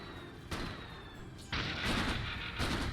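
A cannon ability fires in Dota 2, heavy booming impacts with bursts of crackling noise at several points, mixed with game ambience at moderate loudness.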